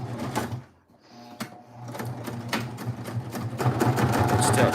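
Sewing machine stitching down a paper junk journal page, a close, loud mechanical whir that pauses briefly near the start, then runs steadily and builds in intensity, with no talking.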